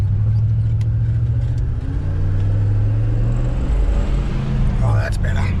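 A car engine with a misfire runs rough and steady at close range, a continuous low rumbling drone throughout with no break.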